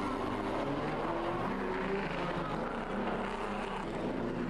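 Historic pre-1961 Grand Prix racing cars pass at Monaco during a race, a steady loud engine roar with rising and falling pitch as the cars come through, no talk.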